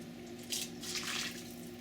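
Lamb stock poured through a strainer, a soft trickling and splashing of liquid heard faintly and briefly over a low kitchen hum.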